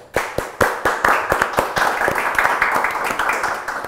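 A few people in an Indonesian podcast studio clap at the end of a segment, sharp close claps in a quick uneven rhythm that stay steady for several seconds, with voices murmuring underneath.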